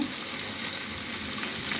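Fish frying in a pan on a home stove gives a close, steady, even sizzle throughout the brief moment.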